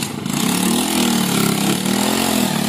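A Skygo motorcycle engine running close by near a river, a steady loud idle with a droning low pitch and slight wavering revs.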